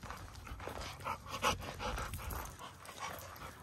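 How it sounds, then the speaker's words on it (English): A year-old young Labrador dog pants quickly and rhythmically right beside the microphone on a walk. The breaths come in short, soft bursts, fairly quiet, with no talk. "She just turned a year old, or she's still a young dog."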